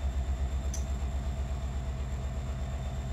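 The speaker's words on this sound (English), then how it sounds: "Notice back the train's moving" Freight train in the Run 8 train simulator game rolls on rails, a low, steady rumbling drone with faint rhythmic pulsing and a brief high click, quiet and continuous.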